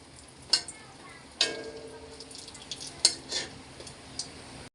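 Fish pieces frying in hot oil for a mixed fish bhuna, a soft steady sizzle broken by several sharp clinks and scrapes of a utensil against the pan.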